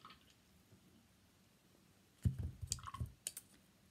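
A paintbrush being rinsed in a water jar while painting a stag, with faint quiet clinks first and then a burst of close splashing, swishing and clicking against the glass.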